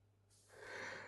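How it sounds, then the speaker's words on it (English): A person yawns close by, a single breathy intake that swells into a long, soft, airy exhale lasting about a second, with no talking. "I'm yawning myself now that I'm looking at her."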